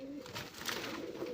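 A Bombay Indian pigeon gives a soft, low cooing call, faint and brief over a steady background hum.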